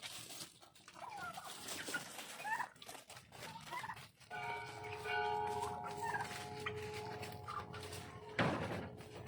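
Turkeys gobble on an urban elementary school farm laboratory, a rough, warbling call rising over mixed poultry clucks and outdoor ambience, with a louder burst near the end.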